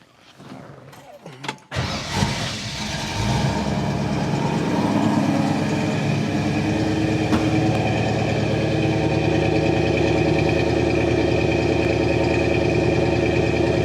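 A 1966 Ford Mustang GT Fastback engine cranks and catches, then settles into a loud, steady idle with a deep rumbling tone that holds for the rest of the clip.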